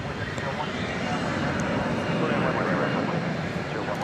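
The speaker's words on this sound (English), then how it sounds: "That was the A321 Neo going to Phoenix." An Airbus A321neo jet airliner bound for Phoenix gives off a steady, broadband engine rumble at DFW Airport at night, with a voice talking over it.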